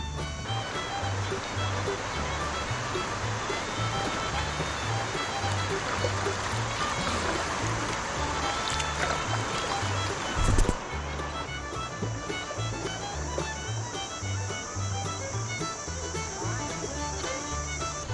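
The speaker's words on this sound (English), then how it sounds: "looks like we're approaching our first real rapid. We've actually been hearing it for a while." Rapids on the Tuscarawas River, Ohio, heard from a kayak as a continuous rushing roar of moving water. The sound stays steady throughout, with a brief bump or knock near the end and no clear speech.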